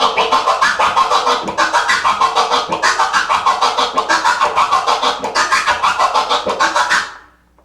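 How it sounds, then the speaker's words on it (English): Transformer scratching on a turntable record, the sound chopped into rapid on-off pulses in a steady stuttering rhythm, loud and close for about seven seconds before cutting off. "the transformer sounds like this"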